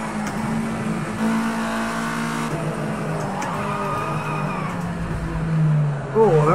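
A race car engine in Project CARS 2 drops down into first gear, the steady engine drone shifting pitch as revs rise with tire noise, under a voice talking.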